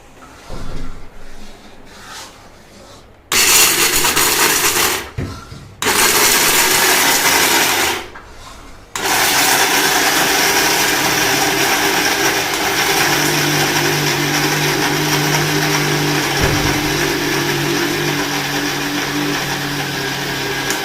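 A kitchen mixer grinder runs dry fruits in a dry jar, whirring loudly in several bursts with brief pauses at first, then one long continuous grinding run.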